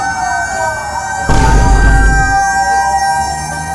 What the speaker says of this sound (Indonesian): itu macam kereta Ghostbuster atau ambulan, tak pastilah